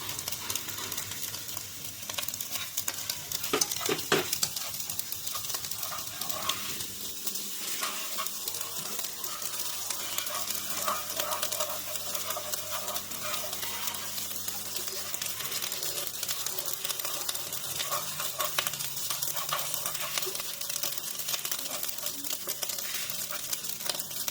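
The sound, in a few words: sausages stirred and frying with rice in a pan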